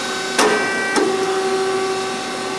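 Dreis & Krump HSB-1014 leaf brake working sheet metal, with two sharp mechanical clunks as the top leaf clamps and the bending leaf rises, followed by a steady hydraulic hum with faint tonal whine.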